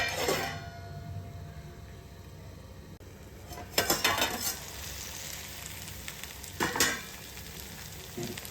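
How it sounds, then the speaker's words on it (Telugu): Soya chunk tomato curry bubbles in a covered pan on low heat, a faint soft sizzle with a few louder bursts of clattering and scraping, close by. "దీన్ని ఒక 5 నిమిషాలు సిమ్లోనే ఉంచి మూత పెట్టి ఉడకనివ్వాలి."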